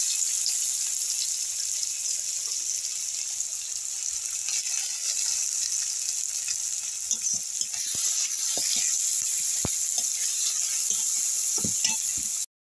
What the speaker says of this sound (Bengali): তেল দিলাম, এবার পেঁয়াজটা দিয়ে দেবো।